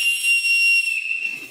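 A referee's whistle blown at the start of a bodybuilder spaghetti eating contest, a loud, shrill sustained blast close by that fades out near the end.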